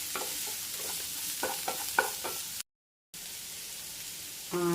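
Kerala-style cauliflower thoran with green chilli and curry leaves frying in a pan, a soft steady sizzle with a few scraping stirs, a brief dropout in the middle, and a short tonal beep near the end.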